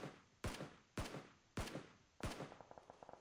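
Distant gunfire in PUBG Mobile, with four sharp, evenly spaced shots followed by a quick burst of lighter rapid fire, faint and heard alone with no talk.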